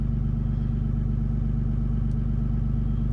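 Cold Cummins 6.7 diesel idling steadily up close, a loud continuous low throb with a faint rhythmic clicking and slight shifts in tone as the grid heater cycles on and off.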